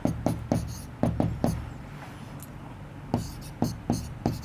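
Chalk or marker tapping and scratching on a board during a maths lesson, a series of sharp close strokes in quick clusters with a short quiet gap in the middle.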